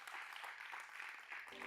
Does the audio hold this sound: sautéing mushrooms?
no